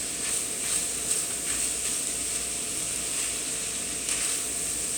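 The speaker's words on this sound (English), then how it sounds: "let the onions cook with the beef for a little bit here" Ground beef and onions sizzle steadily in a pan for sloppy joes, a constant close hiss with a few faint scraping clicks of stirring and no voices.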